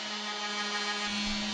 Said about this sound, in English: we need to drill out the hole for the front axle